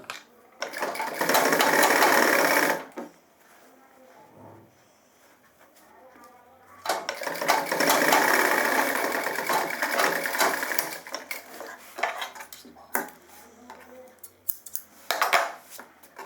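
Sewing machine running in two long bursts, stitching a zipper onto the body of gents' trousers, with short quieter gaps and fabric handling between runs.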